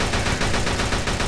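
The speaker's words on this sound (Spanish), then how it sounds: "Ah, Fede Bar Gamer, voy y le disparo." Rapid automatic gunfire from the mobile shooter game Shadowgun Deadzone, a loud burst of evenly spaced shots with no voices.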